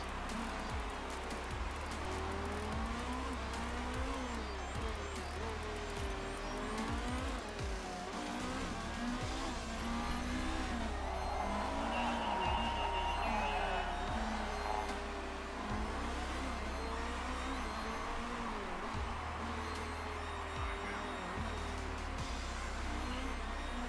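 Race cars in the motorsport management video game Motorsport Manager whine past continuously, engine pitches rising and falling with occasional tire squeal, all fairly quiet and without talk.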